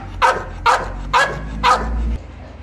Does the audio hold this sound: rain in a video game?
no